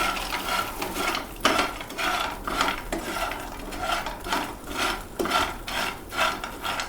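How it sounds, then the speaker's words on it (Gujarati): Almonds being stirred into melted butter for a chocolate almond crunch, giving a steady rasping, scraping rhythm of spoon against bowl, close and moderately loud, with no talking. "આ બટર અને બદામને મિક્સ કરી"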